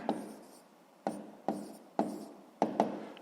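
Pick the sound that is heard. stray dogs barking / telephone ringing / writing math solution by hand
writing math solution by hand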